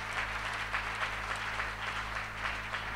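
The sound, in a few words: applause in church gathering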